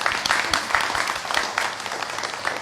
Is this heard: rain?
no